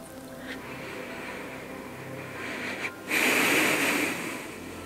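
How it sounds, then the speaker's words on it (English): Slow, deep breathing in a calm indoor setting during mindful laundry folding, with soft airy breaths and a louder, longer exhale near the end. "we can start to take a few deep breaths in"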